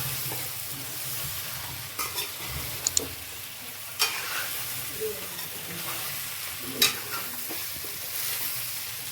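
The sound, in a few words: stirring patra into the tempering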